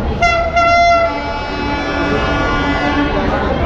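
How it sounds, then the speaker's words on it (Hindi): A Vande Bharat Express arriving at a station on the Varanasi to Ayodhya route sounds a loud multi-tone horn in two blasts, followed by the steady rumble of the train rolling in beneath platform noise. "फ्रेंड्स अभी ट्रेन अपनी वंदे भारत आ चुकी है"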